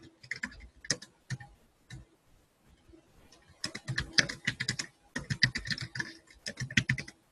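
Typing on a computer keyboard while order information is filled in, heard as irregular bursts of close key clicks with brief pauses between runs, growing denser and busier in the second half.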